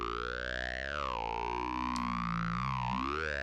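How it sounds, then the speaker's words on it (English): Synthesized creature-like voice effect from a VTuber avatar, a warbling, pitch-gliding tone that swoops down and back up, loud and continuous with no talking. "some creature or machine attempting to sound vaguely human"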